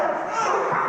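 A police dog barks during active shooter training inside a building, a single loud close bark-like burst with a rough, noisy edge lasting about a second.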